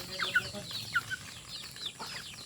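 Gamefowl chickens of Thunderbird breeding stock cluck in short scattered calls over a steady low background hum, a few brief louder notes standing out at moderate distance.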